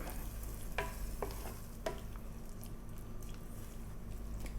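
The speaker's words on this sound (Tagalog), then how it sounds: "So, haluin ko lang sandali." Bottle gourd and shrimp sautéed in a pan with oyster sauce, pepper and salt are stirred, giving a steady low sizzle with a few sharp utensil scrapes near the start.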